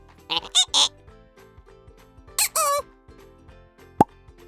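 A cartoon ostrich call: two clusters of squawky, honking bursts a couple of seconds apart, then a single sharp pop near the end, loud over a quiet background.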